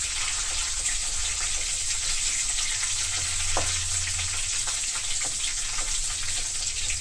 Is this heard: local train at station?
no